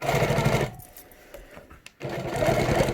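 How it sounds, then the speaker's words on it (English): A sewing machine stitches a quilt block in fast, steady runs, loud and close, with a brief pause in the middle before it resumes. "do a little bit of stitching in there"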